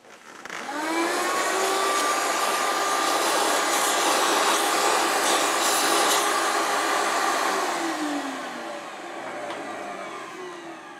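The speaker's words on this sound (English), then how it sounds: "Time to vacuum up, I think." A vacuum cleaner runs loud and steady for several seconds while tidying up a workshop after modifying an insert tool holder, its whine holding constant before easing slightly toward the end.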